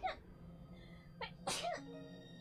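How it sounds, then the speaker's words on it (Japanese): A single sneeze from a streamer, with a short intake sound before the main burst, fairly close and alone, with no talk around it. "くしゃみ出そうだ、くしゃみ。"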